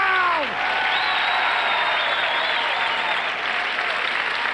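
A comedy show audience claps, a dense sustained wash of applause under a loud voice calling out, with whoops rising through the crowd noise.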